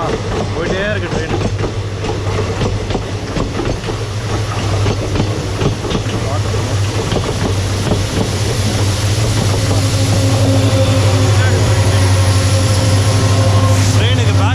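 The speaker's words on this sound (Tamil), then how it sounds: "ட்ரெயினுக்கு பேக் சைடு ஒரு இன்ஜின்." A long train's rear locomotive rolls by, a loud steady engine drone with a sustained low hum rising toward the end, over wheel clatter, near the Dudhsagar waterfalls trek, with someone talking loudly over it.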